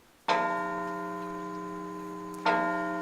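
A bell tolled by firefighters and police officers in Parkville in remembrance of those lost in the September 11 attacks rings twice, each strike a clear, sustained metallic tone decaying slowly until the next, with no talk.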